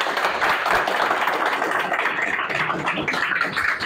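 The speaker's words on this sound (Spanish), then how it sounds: "les pido un aplauso por favor para ella" An audience applauds steadily at a community talk on social projects, a dense, continuous wash of clapping hands that stays loud from start to finish with no talk over it.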